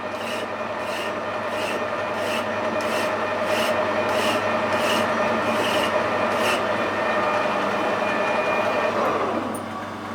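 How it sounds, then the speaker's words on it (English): Metal is hand-filed with a flat file while making an oiler part for a Fowler traction engine model, a rapid, even run of about a dozen rasping strokes over a steady machine-shop hum, close and fairly loud, fading at the end. "it does you good to use a file now and then"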